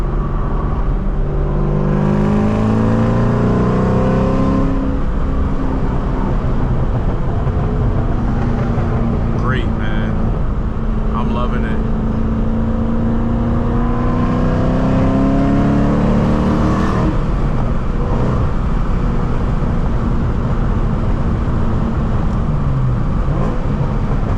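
Loud engine rumble from inside a moving 500hp Mustang Cobra at night, revving up and easing off with shifting gears, a voice talking over it.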